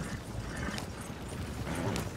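Horse hooves gallop in the Western game Red Dead Redemption 2 as a group rides out, giving a quiet, steady clip-clop rhythm under a soft ambient bed with no speech.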